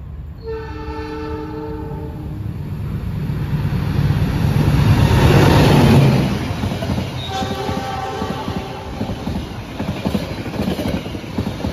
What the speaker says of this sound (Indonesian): Nah itu dia kereta api Ranggajati KA 156-153 telah melintas langsung di stasiun Rejoso